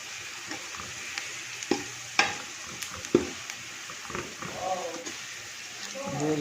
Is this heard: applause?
no